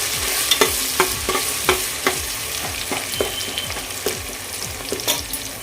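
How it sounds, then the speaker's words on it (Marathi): Sliced onion sautés for green chicken biryani, with a steady sizzle in the pan and repeated stirring scrapes and taps roughly every half second. The sound is close and continuous, with no talking. "हा एक कांदा मी उभा शिजून घेतला तो घालून घेते हा गोल्डन ब्राऊन होईपर्यंत आपण परतून घेऊया"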